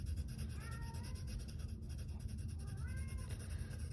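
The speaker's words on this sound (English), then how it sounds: "My cat is going crazy." A house cat meows several times, thin rising cries rising faintly over a steady low hum in a quiet room.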